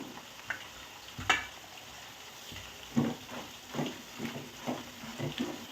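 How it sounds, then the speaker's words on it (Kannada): Curry leaves and garlic fry in hot oil with a soft, fairly quiet sizzle, broken by intermittent stirring and pops; no one speaks. "ಕರಿಬೇವು ಮತ್ತು ಬೆಳ್ಳುಳ್ಳಿ ಎಣ್ಣೆ ಒಳಗೆ ಚೆನ್ನಾಗಿ ಫ್ರೈ ಮಾಡ್ಕೊಬೇಕು."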